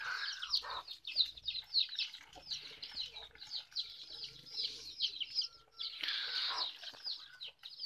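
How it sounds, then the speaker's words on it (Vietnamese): A flock of baby chicks peep and chirp busily in a rural upland garden, a dense high-pitched chatter from close by with soft low murmurs underneath. "Đấy, đàn gà con đấy."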